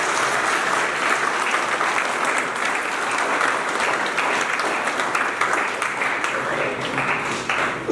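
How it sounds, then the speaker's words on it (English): An audience at a secondary school gathering applauds its teachers, with dense, steady clapping throughout that sounds full and fairly loud, and no voices over it. "So can we all give a round of applause to the teachers?"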